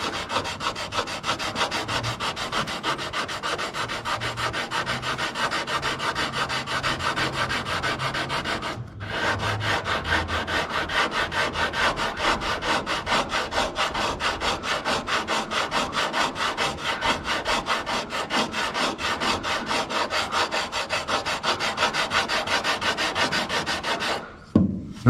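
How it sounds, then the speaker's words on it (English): Steady hand sanding of wood, a continuous rasping back-and-forth rub that runs close and loud for about twenty-five seconds, with one brief pause partway through. "As you're sanding, those runs get wider as they get closer to the right thickness."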